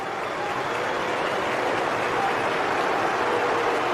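A football stadium crowd roars and applauds after Bellingham scores for England against Senegal, a steady dense wash of cheering and clapping with no break.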